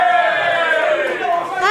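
A wrestling crowd at a Wrestle Queendom show, the Chris Wolf retirement event, cheers loudly and steadily throughout, a dense roar of many voices.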